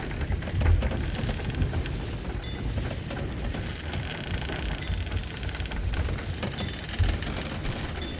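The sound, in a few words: storm with rain and thunder in a video game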